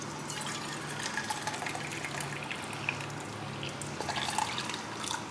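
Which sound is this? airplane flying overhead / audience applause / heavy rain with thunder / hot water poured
hot water poured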